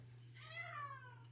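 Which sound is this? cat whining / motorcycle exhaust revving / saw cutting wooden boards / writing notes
cat whining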